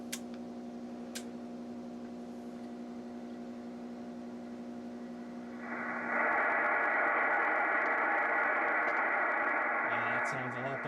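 A Kenwood TS-2000 transceiver, fresh from a capacitor and IC repair for low, distorted audio, gives steady hum and tones, then a loud, broad band of received radio audio fills the second half, close and continuous.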